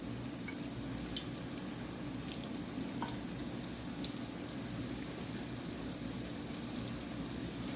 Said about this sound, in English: Put this fish in this hot oil.